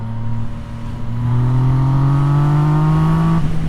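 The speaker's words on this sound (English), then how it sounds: "Hard acceleration" A car engine revs hard under acceleration, a loud, steady rising roar with climbing pitch that builds over a few seconds and holds near, then drops off abruptly at the end.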